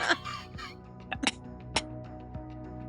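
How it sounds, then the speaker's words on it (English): Several sharp coughs spaced irregularly across a few seconds, with a steady low hum underneath. "Mag coughs."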